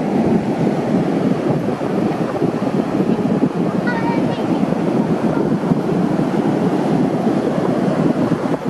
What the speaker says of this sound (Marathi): त्यांना समुद्र दाखवतीये.